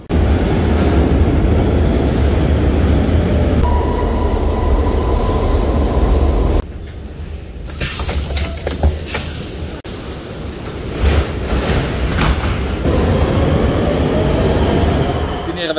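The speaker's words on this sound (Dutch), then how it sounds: "Wij nemen vanaf hier de metro de station Zuid om daar avond te eten." Brussels metro train, a loud continuous rumble of wheels on rail with long high-pitched squealing, then a quieter stretch with clatter and rising whine as it moves through the underground.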